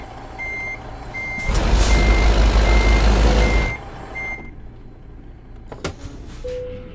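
A truck in American Truck Simulator backs up, its reversing alarm beeping at a steady even rhythm while a loud rumbling burst of engine and air noise swells in the middle, followed by a couple of sharp clunks.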